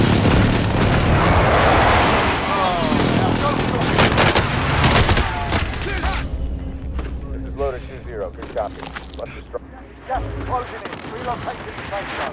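Rapid video-game gunfire with bursts of automatic shots and booming blasts, loud and dense early then thinning into scattered shots, with someone talking over it at times.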